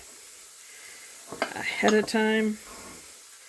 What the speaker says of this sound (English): If you can hear sizzling, I've already got our bacon crisping up in a pan.